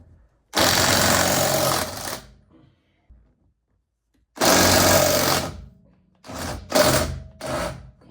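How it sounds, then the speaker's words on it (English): A power tool, likely an impact wrench, removes lug nuts from the front wheel of a 2005-2009 Ford Mustang: two loud buzzing bursts of over a second each, then three shorter rapid bursts, separated by quiet gaps. "So we're gonna go ahead and take these lug nuts off and then take the tire off."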